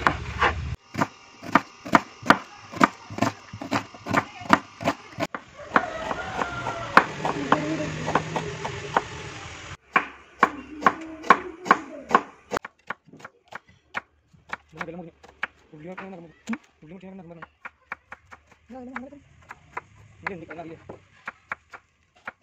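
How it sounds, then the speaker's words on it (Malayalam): A knife chops onions on a board while cooking Kannur-style biryani, with sharp, rhythmic taps in steady runs and a denser, mushier stretch midway. A voice is faintly heard at times. "ഫ്രണ്ട്സ്, നമുക്ക് ഉള്ളി കട്ട് ചെയ്യാം."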